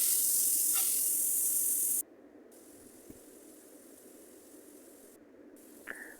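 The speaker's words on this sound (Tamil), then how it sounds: "இப்போ இதை நல்லா சாட்டே பண்ணிக்கலாம்." Vegetables for penne masala pasta sizzle in a pan with a loud hiss for about two seconds, then settle into a faint, low sizzle.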